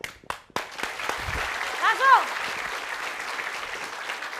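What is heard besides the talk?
audience applause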